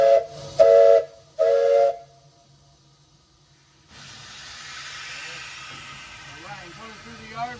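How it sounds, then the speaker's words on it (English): Three loud, steady blasts of a steam locomotive whistle from Lehigh Valley Coal Co. #123, each about half a second long, sound in quick succession. A sustained steam hiss follows, with faint chuffing at the end. "you can disengage your brake and blow your whistle"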